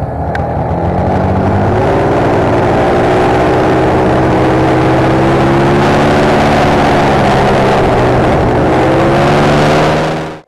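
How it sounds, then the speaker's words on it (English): A snowmobile engine with a broken recoil pull start, running loudly and close at a steady idle with a buzzing mid-range drone, slight pitch wavers, then cutting off abruptly at the end. "That's how you start your snowmobile with your pull start broken."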